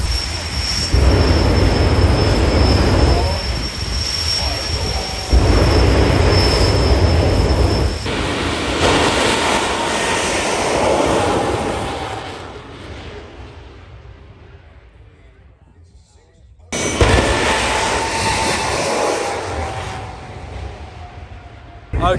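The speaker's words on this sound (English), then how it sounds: "let's see some jet action" A jet-powered vehicle roaring at the Festival of Power drag racing event at Santa Pod, loud sustained jet blast with a whining tone that fades away into the distance, then another loud roar cuts in abruptly.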